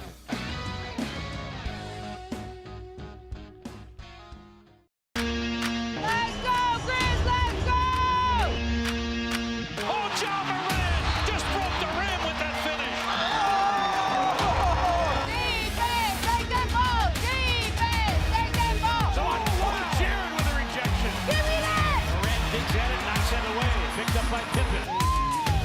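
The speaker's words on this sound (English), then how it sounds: "And you hear the crowd. There's some rumblings in the crowd." Sports broadcast with a crowd rumbling at the main event, a loud continuous roar and cheering under music and talk for most of the stretch after a brief quieter opening.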